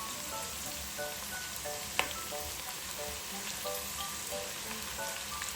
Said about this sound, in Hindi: प्याज को हम अच्छी तरह से गोल्डन ब्राउन कर लेंगे।